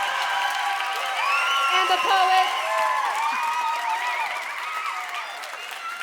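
A poetry slam crowd claps and cheers for the poets, a sustained wash of applause mixed with whoops and excited voices, while a host speaks over the noise.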